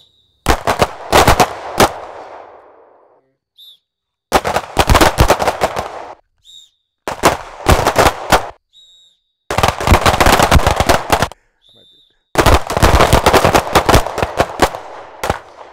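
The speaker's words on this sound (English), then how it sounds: "Do I need to shoot again?" Bursts of gunfire at a speed-and-accuracy shooting training session, sharp loud shots fired in rapid clusters of several rounds, separated by short silent pauses, close to the listener with no talk between strings.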